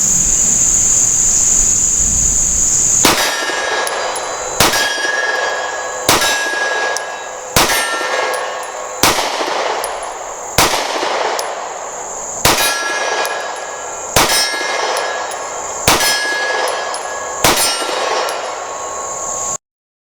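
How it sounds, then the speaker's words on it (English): Springfield Armory Hellcat pistol with an extended 13-round magazine firing on steel targets: after a few seconds of quiet, a steady series of about eight sharp shots, each followed by a bright metallic clang ringing off, evenly spaced and loud, with no voices. "I'm also shooting the Hellcat with the longer extended magazine, that 13 round magazine"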